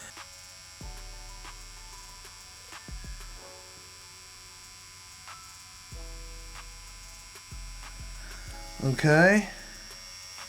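A tattoo machine buzzes in short bursts while running a line into skin, a steady electric whine starting and stopping several times, with a brief spoken word near the end.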